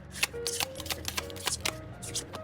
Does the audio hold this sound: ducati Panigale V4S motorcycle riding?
no